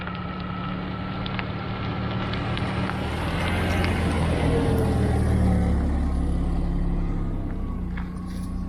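A 1996 Jaguar XJ6 with a 3.2 engine drives along, a steady smooth engine hum with road and wind noise rising and easing slightly, no talking over it.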